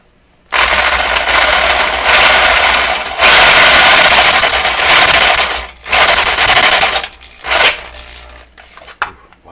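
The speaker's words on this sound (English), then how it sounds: "I had no idea I'd be drilling holes in this radio" A power drill grinds loudly into the metal chassis of a PYE Model 39HC radio in several long bursts with brief pauses, a high squealing whine riding over the harsh buzz, very close.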